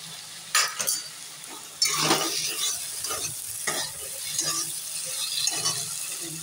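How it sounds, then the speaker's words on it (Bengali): Vegetables frying with poppy seed paste in a pan, a steady low sizzle under repeated scraping and stirring strokes of a spatula, close and clear with no talking. "পোস্তটা দিয়ে আমি ভালোভাবে ভেজে নেব।"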